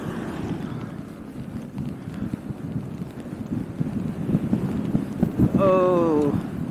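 Gusty wind buffets a microphone outdoors during a bicycle commute in heavy wind and snow in Japan, a rough, fluttering rumble that swells and strengthens toward the end, with a brief voice near the close.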